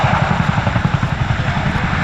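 A Boeing Chinook twin-rotor RAF helicopter comes in to land at an air show, its rapid blade thump beating steadily and loudly in a continuous, pulsing rhythm with engine roar throughout.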